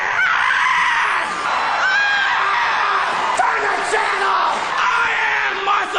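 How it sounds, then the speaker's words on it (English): A comedian screams on stage at a 1986 music awards show: shrill, strained yelling that comes in several bursts and rises over the noise of a reverberant hall crowd. "comes out to the stage to scream inaudibly for a few minutes"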